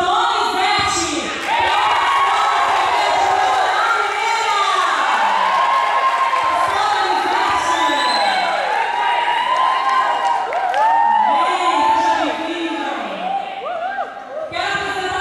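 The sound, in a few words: applause and cheering for the pastor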